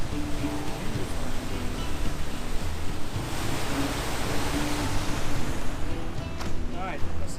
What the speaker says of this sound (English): this nice waterfall is.